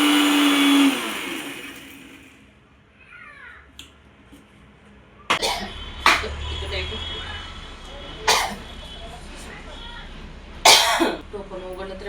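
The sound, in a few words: blender grinding green chili, garlic, ginger and cumin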